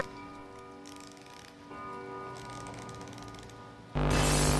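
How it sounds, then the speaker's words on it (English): Music box being cranked inside a FNAF fan horror game, a steady ticking, clicking mechanism with sustained tonal notes running through it, ending in a sudden loud burst of noise. "that was the sound of the music box being cranked."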